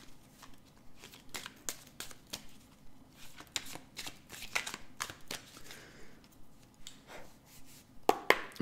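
A deck of tarot cards is cut and shuffled close up, giving quiet, crisp riffles and taps in an uneven rhythm with a few sharper snaps near the end.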